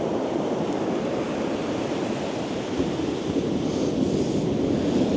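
Steady ocean surf washing onto a beach during shore fishing, a continuous broad roar with slow swells and some wind noise against the microphone, loud and close with no one speaking.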